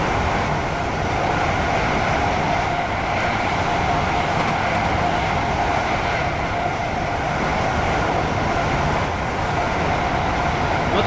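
A passenger train in Train Simulator 2019, on the route from Milton Keynes Central toward London Euston, rumbles along steadily for the whole stretch with a continuous rolling drone and faint rail clatter.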